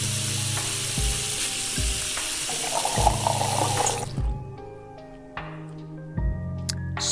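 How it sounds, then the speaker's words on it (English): A kitchen faucet runs in the Cooking Simulator video game, a steady close rush of water that stops about two-thirds through, leaving quieter kitchen clatter and sizzling from a pan. "Water everywhere."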